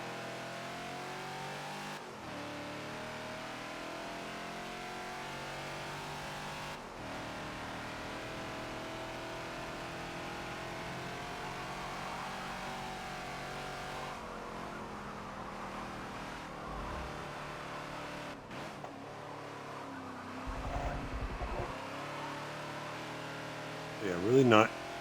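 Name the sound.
Ford Falcon XB engine revving at Sonoma, Forza video game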